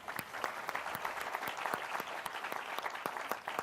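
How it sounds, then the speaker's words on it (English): Audience applause for a volunteer at a magic show during a festival talk, a steady, fairly close wash of many hands clapping that continues evenly throughout with no voices on top. "Please give her a round of applause."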